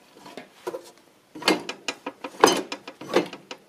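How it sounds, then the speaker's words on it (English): Clutch on a John Deere 140 garden tractor being worked against the flywheel during reassembly, a run of close mechanical clicks and clunks, with a few louder knocks in the second half. "Clutch seems to be working fine. See, pushes on the flywheel there,"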